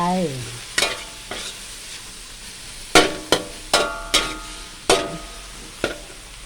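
Holy basil leaves stir-fried in a hot pan with chicken, egg white and salted egg, a spatula scraping and knocking the pan in irregular strokes over a steady low sizzle.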